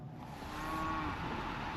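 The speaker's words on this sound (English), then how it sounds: "I've been stalked by the wild cows." Wild cows moo continuously in an outdoor backwoods camping area near a parked Jeep, a low drawn-out lowing that swells slightly and holds steady against faint outdoor background noise.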